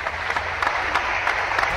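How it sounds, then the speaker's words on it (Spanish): Studio audience applause for the quintet Quito Hora Cero on an Ecuadorian family variety show: a brief, loud, dense burst of clapping with a few sharper claps poking through. "aplauso para el quinteto Quito Hora Cero"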